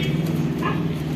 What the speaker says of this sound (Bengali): ওই দেখ ঘেউ করছে বাবা